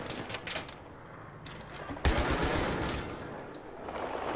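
Gunfire in the Battlefield 3 co-op campaign: a sudden loud burst of shots about halfway through, over a dense, noisy battle bed that continues afterwards, with no talking.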